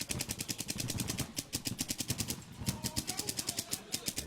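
Rapid bursts of paintball guns firing in quick succession during a competitive paintball match, sharp pops repeating in a steady rhythm with brief pauses, fairly close and loud.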